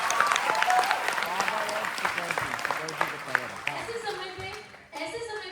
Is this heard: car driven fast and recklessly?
no